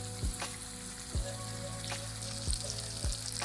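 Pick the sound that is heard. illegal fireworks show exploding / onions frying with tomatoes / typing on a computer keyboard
onions frying with tomatoes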